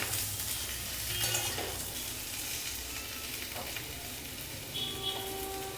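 Large cut potato pieces sizzle steadily in a pan of oil while cooking for green jackfruit kalia, with occasional soft stirring clinks over the continuous fry; no voices are heard.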